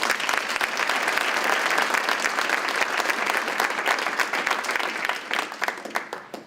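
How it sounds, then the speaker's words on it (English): An audience at a university opening session applauds in a dense, loud, sustained burst that fades slightly toward the end. "Let's give all of our supporters a round of applause"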